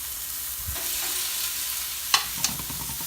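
Raw chicken pieces sizzle in a skillet as they are lifted out, giving a steady frying hiss with a couple of sharp clinks of a utensil against the pan.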